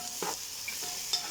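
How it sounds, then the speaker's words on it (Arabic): Meat in tomato sauce sizzles in a pan while being stirred, a steady frying hiss broken by a few scraping stirs and soft clinks. "تقلبي كده"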